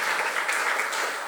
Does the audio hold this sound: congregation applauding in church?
yes